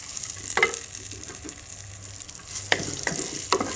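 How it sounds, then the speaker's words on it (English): Sliced onions frying with fenugreek in a pan, a steady soft sizzle broken by several sharp clicks and scrapes of stirring, close and alone with no voices. "I'm going to cook the sliced onions until they become a little transparent."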